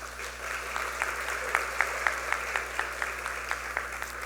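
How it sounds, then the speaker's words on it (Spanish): Sustained applause from a seminar audience welcoming a speaker at a public legal management conference, a dense wash of clapping with a few sharper individual claps standing out, over a low steady hum. "Lo recibimos con un fuerte aplauso"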